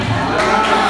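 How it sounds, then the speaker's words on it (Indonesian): A Sunday school festival congregation at a church celebration bursts into loud, close cheering and applause, a brief dense roar of voices and clapping. "Tepuk tangan kita semua."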